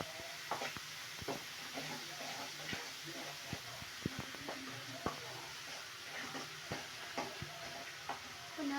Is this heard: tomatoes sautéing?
yes